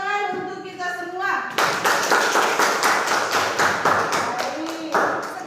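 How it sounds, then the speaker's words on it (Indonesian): Classroom of children clapping hands together in a fast, rhythmic burst that starts abruptly after a voice and carries on loudly and close, with speech briefly heard over it. "Tepuk tangan untuk kita semua."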